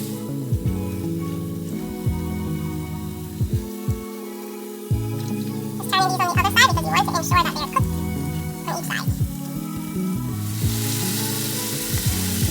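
Jamaican dumplings shallow frying in hot oil give off a loud, continuous sizzle with crackles and occasional stirring or turning sounds, and a voice speaks over part of it.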